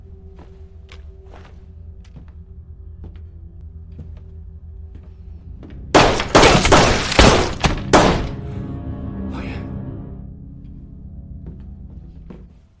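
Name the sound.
gunfire in a gangster film scene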